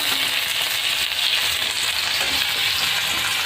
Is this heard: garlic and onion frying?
yes